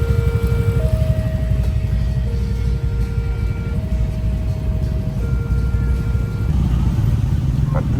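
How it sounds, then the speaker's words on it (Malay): Dense street traffic thick with motorcycles on the old road toward Jakarta, a constant close rumble of engines with several sustained horn tones sounding over it. "Penuh motor."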